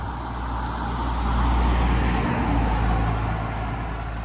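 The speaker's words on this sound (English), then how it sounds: "the first thing that comes along is a camper van" A camper van drives past on an outdoor road, its engine and tyre roar rising to a peak and then fading again over a constant background of traffic noise.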